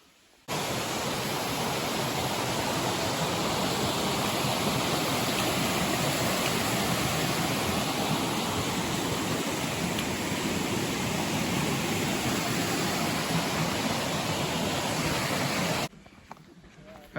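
A waterfall on a steep Appalachian Trail mountain descent, a close, loud and steady rush of water that starts abruptly and stops abruptly near the end.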